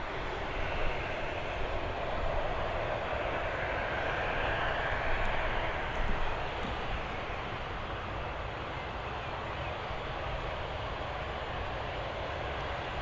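A Ryanair Boeing 737 arriving at Dublin Airport from Seville makes a continuous moderate jet rumble, swelling slightly around the middle, with no voices.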